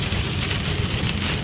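A dense, steady roar of heavy rain beats down on a road during a thunderstorm near Rio Cuarto, Argentina, loud and close for a short moment with no voices.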